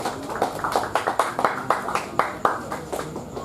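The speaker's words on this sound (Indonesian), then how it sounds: "Tepuk tangan untuk kita semua." A small audience at an evening youth event claps, distinct rhythmic hand claps that sound sparse and individual rather than a full roar, moderately close and in a regular pulse.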